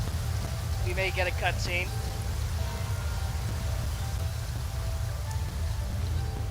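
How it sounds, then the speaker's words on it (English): Steady rain in the video game Genshin Impact, a continuous even hiss and low rumble throughout, with a person talking briefly over it near the start. "And it's raining!"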